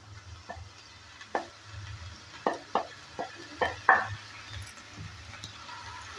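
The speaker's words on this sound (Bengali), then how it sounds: "শাকটা দেওয়ার পর ভালো করে আবারও নেড়ে চেড়ে নিচ্ছি।" Potatoes and bathua greens are stirred as they fry in a pan, with a soft steady sizzle under a series of distinct spatula scrapes and clinks spaced about a second apart, close and fairly quiet.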